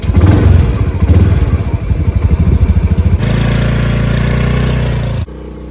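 Honda Beat motorcycle engine running up close: a rapid, loud putter of firing pulses that rises into a steadier, higher-revving drone before cutting off abruptly near the end.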